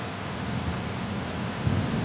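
Thunder in a horror story setting: a steady low rumble wrapped in a rain-like hiss fills the whole stretch, swelling briefly toward the end, with no voices.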